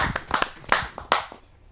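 Applause from a kavi sammelan audience welcoming a poet to the stage, a short burst of scattered, fairly close hand claps that builds briefly and then fades out to quiet.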